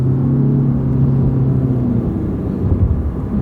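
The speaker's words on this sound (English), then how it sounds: "And we'll give it a little gas." Car engine given gas and accelerating on the road, a loud, close, steady low rumble with a rising drone and slight pitch shift, no voices.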